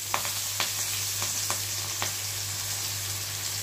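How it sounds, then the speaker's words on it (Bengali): Chopped onions frying in oil with nigella seeds and green chilli give a steady, moderate sizzle with a few light scrapes and clicks of stirring, and no voices. "পেঁয়াজটাকে ভাজবো আমি একটু হালকা ব্রাউন কালার করে।"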